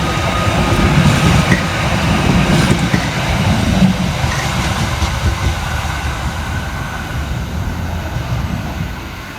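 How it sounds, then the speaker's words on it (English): A Merseyrail Class 777 electric train, unit 777-021, pulls out of Liverpool Central, giving a steady low rumble and rolling hum that fades slowly as it moves off. "Out next to depart is 777-021 with the 1514 Merseyrail electric service from Liverpool Central through to Ellesmere Port"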